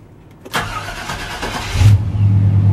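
A Chevy Silverado with a low battery cranks, a sharp broadband burst opening into a sustained engine roar that steadies into a loud, even idle hum, heard close with no talking.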